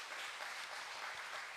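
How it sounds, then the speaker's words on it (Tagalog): Congregation applauding in praise during a Catholic healing mass, a steady, dense wash of clapping hands that fills the whole short stretch at moderate level with no talk over it. "Salamat sa mga palakpak papuri para sa ating Panginoong Hesus."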